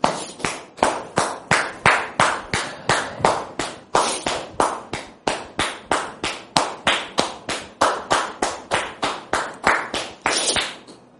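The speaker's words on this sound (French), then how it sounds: "Sous vos applaudissements, s'il vous plaît" Audience at a church gathering welcoming a guest, Brother Constant, with rhythmic unison clapping: sharp, evenly spaced claps repeating steadily for the whole stretch, loud and close, with no talk.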